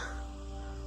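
Crows caw in short bursts over a steady low hum at a campsite, fairly close and clear with no talking.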